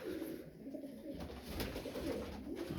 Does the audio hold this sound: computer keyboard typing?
no